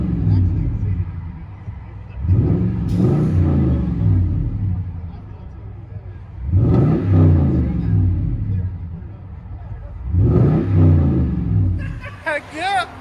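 A 2014 Toyota Tundra with a 5.7L V8 and Carven R-Series true dual exhaust revs in three loud, rising bursts, each swelling and falling back to a deep idle rumble, with faint voices in the background.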